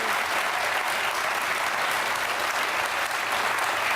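A television talk show studio audience fills the space with continuous, evenly dense applause, loud and unbroken for the whole stretch, with no clear voices over it.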